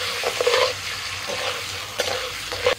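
Chopped tomato, onion and three green chillies sizzle in a pan as a spatula stirs them slowly, close and fairly loud, with a few sharper scraping strokes and no talking.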